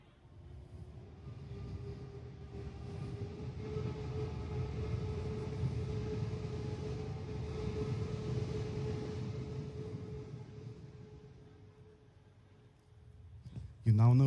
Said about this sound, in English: What you will hear is a recording of a departure power profile of the vehicle recorded from about 100 feet away from the microphone.